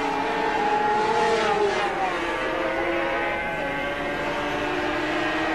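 A 500cc Grand Prix racing motorcycle roars at Silverstone in 1979, holding a loud, sustained high engine note in sixth gear at around 145 mph, with a steady pitch and a slight swell near the start.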